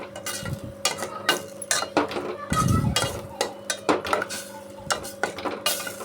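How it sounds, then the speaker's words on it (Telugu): A spoon stirs chicken curry with rock salt in a metal pot, giving repeated close scraping clinks and knocks in an irregular rhythm and one brief low rumble midway, no talking. "ఇప్పుడు ఒకసారి బాగా మిక్స్ చేసుకోవాలన్నమాట"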